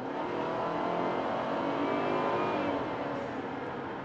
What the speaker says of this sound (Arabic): تسمع صوت التوربو، البلو اوف فالف تبع التوربو مسموع هون فيها، تسمع التصفير هاي او التنفيس تاعت الهواء